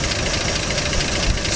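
A 1949 Chevrolet Stovebolt 216 six-cylinder engine with single-barrel carburetor idles close by, a loud steady rumble with a rhythmic mechanical clatter and fan whir.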